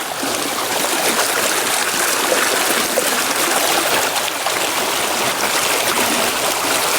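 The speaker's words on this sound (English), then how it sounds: "you can see the water's running under the wishing pool now." Water runs and trickles steadily beneath an ice- and snow-covered wishing pool in a snowy forest, a broad continuous rushing close by that stays even throughout with no voices.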